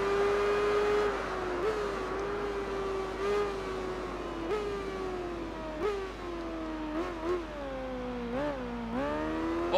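A motorcycle engine in the video game Tourist Trophy held at high revs through a wheelie, a steady droning whine with small pitch dips and surges as the throttle shifts, close and continuous throughout.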